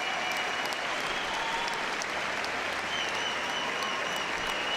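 Sustained applause from a large crowd at a dog show judging ring, filling the whole stretch, steady and dense, with no break or voices standing out.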